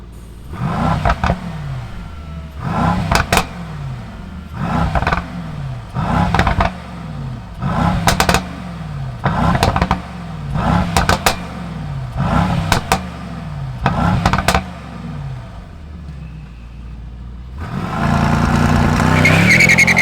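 A 2021 Mercedes-AMG E63 S wagon with a bi-turbo engine fires up, then gives about ten sharp, loud revs in a steady rhythm, each falling back to idle, before settling into a sustained, heavier engine roar.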